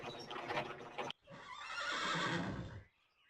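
Horse-like creatures pulling a wagon in the video game Tales of the Abyss whinny as it stops, a short burst followed by a longer, loud, drawn-out neigh that fades away, heard alone.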